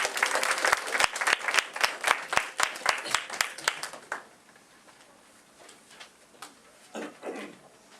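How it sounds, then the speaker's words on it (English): A radio show studio audience claps loudly and densely for the cast, with sharp individual claps standing out, then the applause dies away into quieter scattered noise with a brief swell near the end. "Let's sound a round of applause to the cast."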